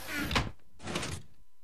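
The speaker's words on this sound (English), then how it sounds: "And let me just close it again" A Minecraft door in a redstone contraption closing, heard as two short, clean blocky bursts about half a second apart, with no talking.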